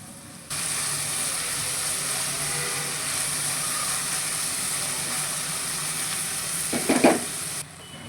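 Chopped tomato tossed into a hot pan for spicy Andhra-style egg pulusu, setting off a steady, even sizzle that holds for several seconds, with a short burst of stirring scrapes near the end before it cuts off.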